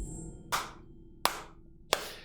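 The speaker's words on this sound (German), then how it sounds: "Für diese Frage gibt's Applaus." Three separate, sharp hand claps spaced well apart, close and fairly loud over a quiet background hum, during a German gaming stream of Detroit: Become Human.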